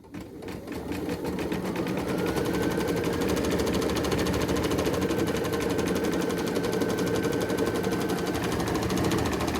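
Sewing machine stitching the top edge of a fabric lion's mane, a steady fast continuous whirring chatter of needle strokes that runs close and loud throughout after a brief start.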